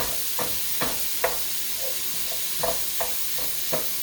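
Soft sizzling in a pan with a series of light, evenly spaced taps and scrapes as a masher breaks up breakfast sausage.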